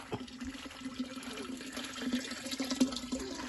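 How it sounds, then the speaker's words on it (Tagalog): Steady trickle of water running into a container, a continuous low splashing wash with occasional small drips and knocks, fairly faint. "may nagsisilid ng tubig"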